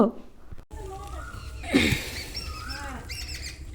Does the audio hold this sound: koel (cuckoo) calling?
yes